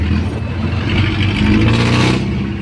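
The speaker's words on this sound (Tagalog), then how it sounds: "Grabe traffic guys." Heavy road traffic in Taytay, Rizal, a continuous close rumble of engines with vehicles revving and moving past, no voices.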